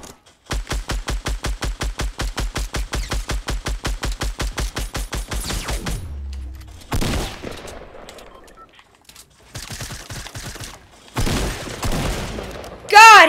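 Rapid automatic enemy gunfire in Fortnite Battle Royale, a steady loud burst of evenly spaced shots lasting several seconds, followed by scattered shots and game noise with a voice talking briefly.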